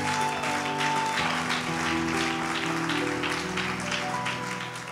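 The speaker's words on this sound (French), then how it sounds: "On acclame très fort pour l'homme de Dieu." An audience at a church service claps and cheers loudly for a preacher. The applause is sustained and dense, with music playing underneath.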